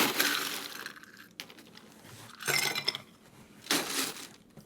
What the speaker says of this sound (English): And we'll ice the mixing glass.